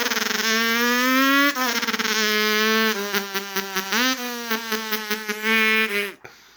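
A human voice imitates a dirt bike engine, with a buzzy, harmonic-rich revving tone that climbs and dips through repeated throttle blips, close and loud, cutting off abruptly at the end.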